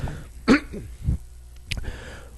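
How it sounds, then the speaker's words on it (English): A man clears his throat a couple of times in short, close, rough bursts with quiet pauses between, alone without speech. "of course it's having me clear my throat a little bit here"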